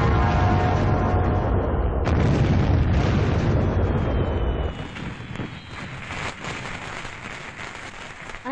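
Diwali firecrackers burst in a dense, loud roar of booms and crackling pops, then thin out into scattered sharper bangs and hissing crackle, with no talk.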